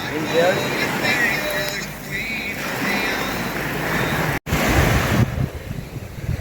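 Surf rolls in at Angels Beach under strong gusts of wind that buffet the microphone, with a brief cut in the middle.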